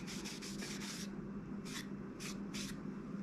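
Buffing a finish on a hard maple and cherry burl woodworking piece, a close rhythmic rubbing that comes in several quick strokes, then pauses and returns in short bursts, with no talking.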